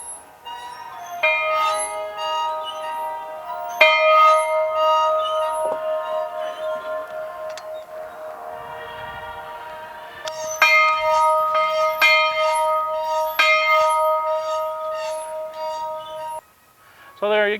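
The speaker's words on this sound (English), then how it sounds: "outside, we can ring the bell" A large bell rung outdoors among film props, sounding several loud clanging strikes with long ringing overtones that hang and decay between hits, plus a quieter clink midway and a short final strike.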